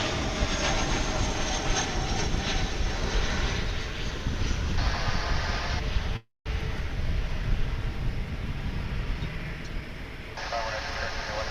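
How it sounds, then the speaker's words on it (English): An American Airlines jet arriving from Palm Beach, Florida, approaches runway 18 left at Dallas/Fort Worth International Airport, a loud, continuous broadband engine roar with a steady rumble that holds throughout, heard up close outdoors. "Coming in from Palm Beach, Florida, American Airlines Flight 12:20."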